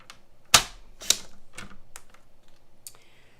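Keys clatter on a computer keyboard at a craft table, with a few sharp, loud strikes followed by lighter, uneven taps over a few seconds, close by and with no speech.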